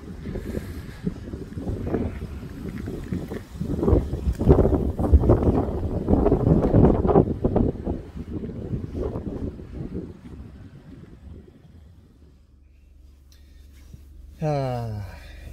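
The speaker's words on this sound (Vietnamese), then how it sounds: "Hôm nay trời có gió nhiều các bạn." Strong wind roars and buffets outdoors on a street in Regina, Canada, loud and gusty with rumbling microphone noise for most of the stretch, easing toward the end before a short tonal sweep.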